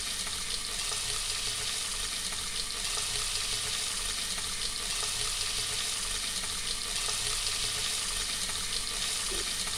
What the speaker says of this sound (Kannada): ಅದನ್ನು ಚೆನ್ನಾಗಿ ಫ್ರೈ ಮಾಡ್ಕೊಳ್ಳಿ. ಇವಾಗ ಆಲೂಗಡ್ಡೆ ಹಾಕ್ಕೊತಾ ಇದ್ದೀನಿ.